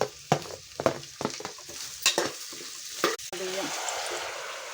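Carrots, beans and onions frying and being stirred in a pan for veg biryani, with a series of scraping, clattering stirs over a continuous oily sizzle, fairly close.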